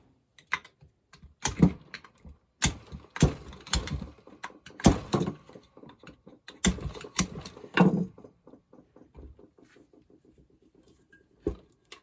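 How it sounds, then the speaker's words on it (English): Allen key working a stubborn set screw on the flywheel of a Casablanca Delta II ceiling fan, a run of sharp metallic clicks and ratcheting scrapes in uneven bursts, close and alone. "When you remove the flywheel, you just want to loosen this Allen screw."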